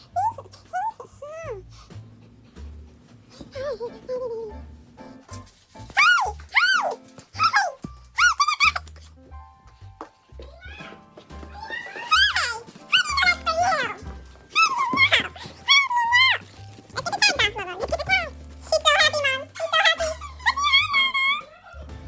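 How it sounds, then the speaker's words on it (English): A dog whines and whimpers in high, wavering squeals, over and over, close by, with occasional voices and rustling underneath. "I got to see my dog Lobo."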